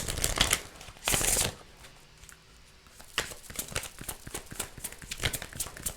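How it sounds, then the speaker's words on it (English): Tarot cards are shuffled in quick riffling bursts, with crisp flutters and soft taps, close by and fairly loud, no talking. "one more shuffle"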